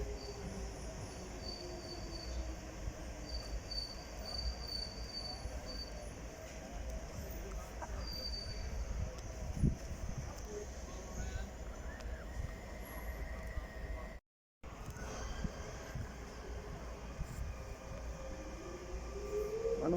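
A DLR light railway train pulls away towards Bank at Greenwich, with a steady rolling rumble, squealing wheels and a rising whine near the end, heard at close range with a brief dropout midway.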